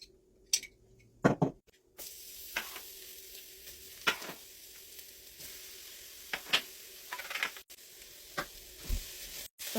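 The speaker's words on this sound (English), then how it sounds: "add some oil to the Dutch pot and then just saute the chopped vegetables for like a minute" Chopped vegetables sauté in oil in a Dutch pot for a Jamaican salmon run down, with a steady close sizzle and repeated clinks and scrapes of stirring.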